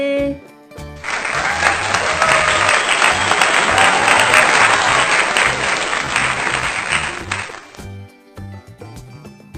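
An audience of children and adults breaks into loud, sustained clapping for about seven seconds, dense and close, then stops abruptly.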